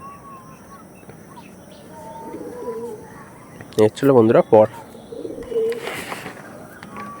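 Pigeons at a market stall selling Andhra and Kalanka pigeons coo softly in the background, with a short burst of louder wing flutter or calls midway, while someone talks over them.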